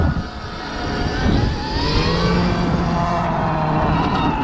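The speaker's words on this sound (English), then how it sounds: "This is my first time ever riding an electric dirt bike too" A Stark Varg electric dirt bike being ridden gives off a rising whine that swells over a few seconds, fairly close and steady, against a wash of wind and background noise.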